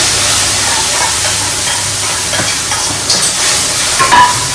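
Gravy poured into a hot frying pan with hing and Kashmiri red chili sizzles loudly and steadily, with occasional stirring scrapes through the hiss.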